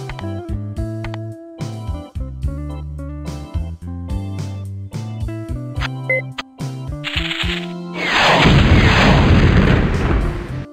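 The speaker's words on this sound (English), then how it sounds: "Launch and explode all three missiles." Heavy booming blasts of missiles exploding in The Incredible Machine: Even More Contraptions repeat in quick bursts, like distant cannon fire, then a long roaring explosion rumbles loud for the final few seconds.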